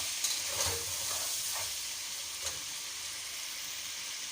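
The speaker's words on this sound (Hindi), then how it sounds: "अब हम इसमें डाल देते हैं अपना प्याज, डाल के इसको शैलो फ्राई कर लेते हैं" Onions shallow-fry in hot oil for chicken karahi, a steady hissing sizzle with a few light stirring scrapes early on, heard alone at moderate loudness.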